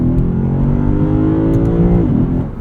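A 2023 Lexus IS 500 F Sport Performance's engine revs up and then drops sharply as it downshifts high in the rev range, loud and close, with no talking.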